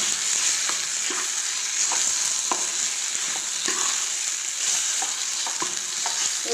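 Green peas sizzling in hot oil with tempered spices in a pan, for pea-filled kachori, a continuous bright fry with soft periodic stirring scrapes, close and loud, no voices.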